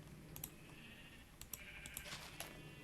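Sheep in the Minecraft video game bleat several times in short bursts, fairly faint against a low background hum, with light clicking mixed in.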